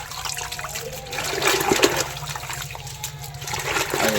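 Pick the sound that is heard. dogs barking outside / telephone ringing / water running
water running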